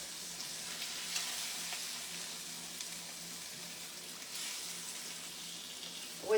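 Meat sizzles and fries steadily in a hot pan while it browns on both sides, a continuous close crackling hiss with no talking.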